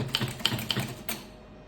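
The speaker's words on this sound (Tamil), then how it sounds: "ஸோ இந்த மாதிரி தான் நம்ம ஃபிங்கரிங்ஸை டைப் பண்ணோம்" Keys struck on a typewriter during a typing lesson, a few separate clacks in a slow uneven rhythm, close and fairly quiet, with no voices.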